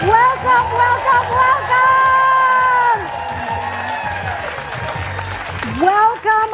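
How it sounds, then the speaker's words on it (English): A game show studio audience claps and cheers for the host, a dense wash of applause with whoops under a loud voice speaking over it, easing off partway through. "Give yourselves a round of applause."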